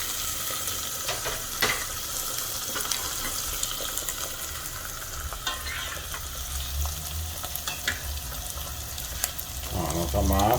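Sausage ragù sautéing in oil in a pan gives a continuous close sizzle and crackle, with occasional stirring clatter and a rush of running water near the end.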